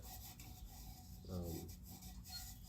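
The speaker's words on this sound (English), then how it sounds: "a good hour at least of sanding" Steady rasping of sandpaper rubbing against cherry wood on a segmented vessel, a continuous scratchy sound that briefly grows louder and fuller midway.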